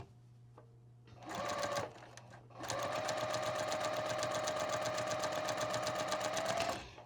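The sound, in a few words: sewing machine stitching log cabin quilt squares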